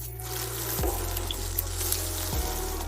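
Vegetable oil and butter sizzle in a heated pan over an outdoor campfire, a continuous bright hiss over a low steady hum.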